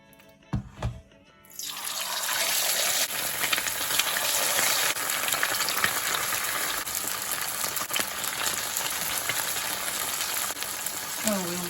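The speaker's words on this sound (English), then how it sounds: "Here I have my pot on the stove with my oil, and my wings are ready for frying." Marinated chicken wings drop into hot oil in a pot on the stove, and after a short quiet moment a loud, bright sizzle bursts up and keeps crackling steadily to the end.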